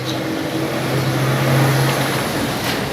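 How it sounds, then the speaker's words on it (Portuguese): A truck passes outside, a steady mid-distance engine drone with a low hum that swells slightly and then eases, heard alone. "Ixi, um caminhão, gente, passando, né?"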